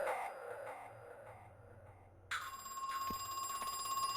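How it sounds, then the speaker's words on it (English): A telephone starts ringing in the video game Crow Country, a sudden bright electronic ring that cuts in after a quiet, hollow ambience and keeps going steadily to the end. "Okay, phone call."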